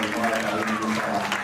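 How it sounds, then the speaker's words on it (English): Audience at a youth festival applauding, a dense, steady wash of clapping heard from within the crowd throughout the short moment. "Please, a round of applause for him."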